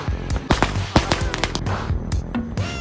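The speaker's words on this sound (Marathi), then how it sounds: "बर्थडेला बघा कसे फटाके फोडले जातात." Firecrackers going off at a birthday celebration, a rapid irregular string of sharp cracks and pops close by, with people's voices and background noise mixed in.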